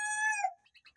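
A loud Golden Neck d'Uccle bantam cockerel crows with a long drawn-out call, then several short, quieter clucks follow in a quick series.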